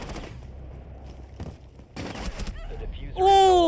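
Gunfire in Rainbow Six Siege during a custom match: a few sharp shots and clatter over low game ambience, followed by a rising whine near the end.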